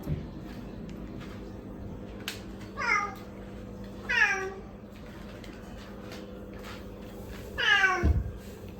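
A domestic cat meows three times, close and clear, with the calls spaced several seconds apart over a low indoor background hum.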